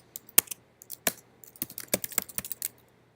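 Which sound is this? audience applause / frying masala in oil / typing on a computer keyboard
typing on a computer keyboard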